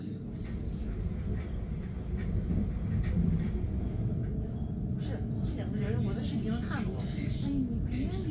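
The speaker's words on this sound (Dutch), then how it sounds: "Met deze trein gaan we naar Dordrecht." Dutch passenger train riding towards Dordrecht, heard from inside the carriage: a constant low rolling rumble with faint rhythmic track clicks, while people talk quietly nearby.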